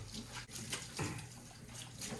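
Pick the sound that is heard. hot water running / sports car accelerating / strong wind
hot water running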